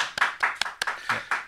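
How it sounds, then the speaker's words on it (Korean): Small audience claps to welcome a guest onto a Korean political talk show, a few close, sharp hand claps in an uneven rhythm lasting barely over a second, with no talk. "큰 박수로 환영해 주십시오"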